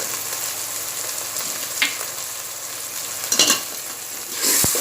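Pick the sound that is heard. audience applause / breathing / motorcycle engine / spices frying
spices frying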